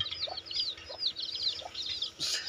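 High, rapid peeping of several small chicks, continuous and overlapping, with a few soft lower clucks nearby.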